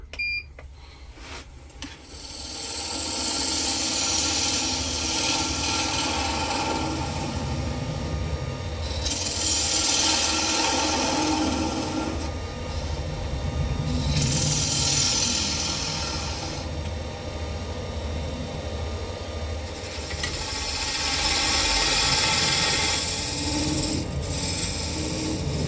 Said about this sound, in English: I'm just going to take a few passes on here and then we'll sand that up